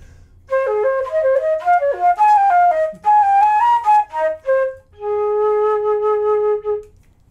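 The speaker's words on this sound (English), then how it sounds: "this is called the flute." A flute plays a quick melodic line of high notes, clear and close, then pauses briefly before finishing on a steady held note, with no voices.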